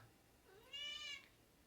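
A cat gives a single drawn-out meow in a kitchen during cooking of chickpea curry. The call rises and falls, sounds faint and somewhat distant, and stands alone over a quiet background.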